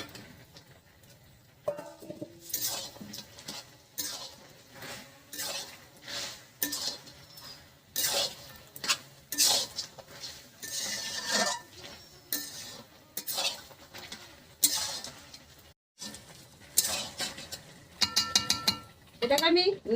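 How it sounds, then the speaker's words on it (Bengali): Fried potatoes go into a pot of goat meat, with repeated clanks, scrapes and stirring knocks of a utensil against the metal pot in irregular bursts and a faint sizzle beneath. "এবার ভেজে রাখা আলুগুলো দিয়ে দিচ্ছি"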